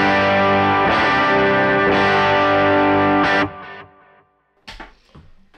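Electric guitar with overdrive, light reverb and delay, tone knob around two o'clock, through a pedalboard with a Tonex, played loud in sustained distorted chords that cut off, leaving echoing delay tails and a few quieter picked notes.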